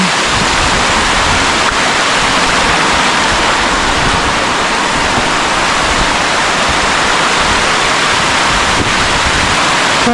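Heavy rain sends water rushing and pouring down from above on the path at Visapur fort, a loud, steady, unbroken roar that fills the whole stretch.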